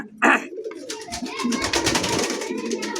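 Sirazi pigeons at a pigeon seller's, a short loud call followed by soft, rolling coos repeating close by.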